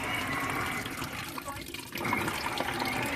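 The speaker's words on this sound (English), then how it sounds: "your radiator fluid starts to come out that hose" Radiator fluid on a Dodge Charger RT 5.7 running out of a hose after the drain plug is loosened, a continuous splashing, gurgling pour that dips briefly midway and then picks up again, close and without talk.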